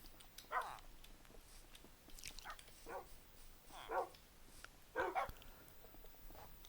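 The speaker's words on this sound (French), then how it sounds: "Il y a un peu beaucoup de chiens par contre." Dogs barking in the Minecraft video game, five or six short, faint yaps scattered at uneven intervals over a quiet background, with no talking.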